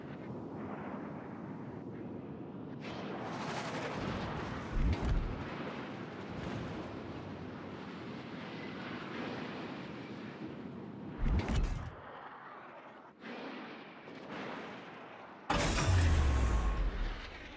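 Naval gunfire aimed at an enemy warship in a naval combat game, heavy booming shots with long rumbling tails and lingering roar, several separate blasts spread across the stretch, loud and near, the last one deepest.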